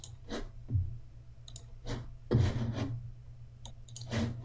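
Computer mouse clicks, a handful of sharp, close taps spaced irregularly over a quiet background, with a low hum between them.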